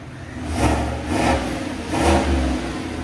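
A 2026 Chevy Silverado Trail Boss 5.3L V8 with a Borla Touring cat-back exhaust revs three times in quick succession, a deep close rumble rising and falling with each push of the throttle.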